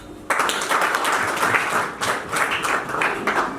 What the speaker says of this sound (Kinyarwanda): tubanze tuwukomera amashyi.